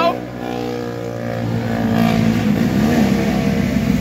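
An engine fires up and settles into a steady, loud running drone with rising rumble, while people talk over it.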